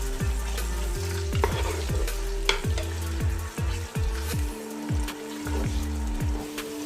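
Onions sizzle in a hot pan over a high flame, frying steadily while a spoon stirs them in repeated, regular scraping strokes that sound close and clear, with no talking.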